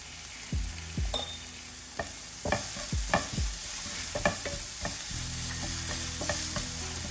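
Turmeric stirred into a sizzling spice mixture in a pan for masala dosa filling: a run of quick scraping and knocking strokes of a spoon against the pan over a continuous close frying hiss, with a low hum underneath.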